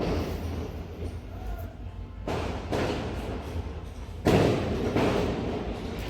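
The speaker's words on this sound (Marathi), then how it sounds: "कुठेतरी ना फटाके फुटताय तुम्हाला आवाज येत असेल" Firecrackers burst somewhere far off, a few muffled thuds spaced several seconds apart under a steady low background hum.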